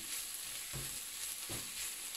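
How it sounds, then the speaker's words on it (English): Spinach and onions fry in a pan with a soft, steady sizzle, broken by two brief louder bursts of stirring or tossing, faint and close. "just go in and also fry your spinach with your onions"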